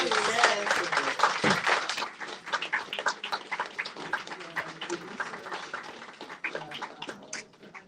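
Applause from an audience at a film screening and discussion, with scattered claps that build loudly and then thin into lighter, uneven clapping, while voices and a few cheers rise over it.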